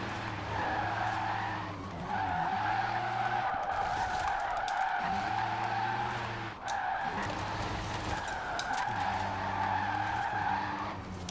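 A Rimac C Two drifts in Forza Horizon 4, with loud sustained tire squeal in long repeated skids, broken by short pauses, over a whining electric drivetrain hum.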